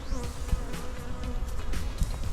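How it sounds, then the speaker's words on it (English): Bees buzz steadily nearby, a dense droning hum with several insects flying close past, no voices. "with the buzzing of bees."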